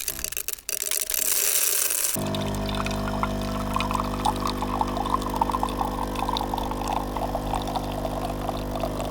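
Coffee poured in the back of a van with a Bluetti Premium 200 V2 power station running nearby; a brief rushing pour opens, then a steady, loud mechanical hum holds for the rest.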